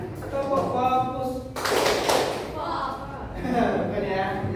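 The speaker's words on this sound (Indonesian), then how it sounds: "Tepuk fokus." A group performs the 'tepuk fokus' clapping rhythm in a school counselling session: a burst of close claps lands between stretches of chanted voices, with a brief rhythmic thud pattern.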